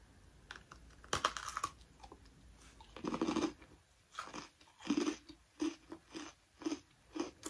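Someone eats a pumpkin spice golden Oreo sandwich cookie, with close, quiet crunchy bites and a rhythmic run of chewing crunches and no voices.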